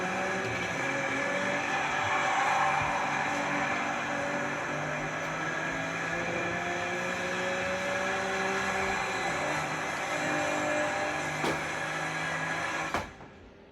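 A racing car in Forza Horizon 6 drones with a steady engine whine and layered tonal hum, holding level before cutting out abruptly near the end.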